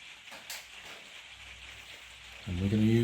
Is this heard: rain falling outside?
yes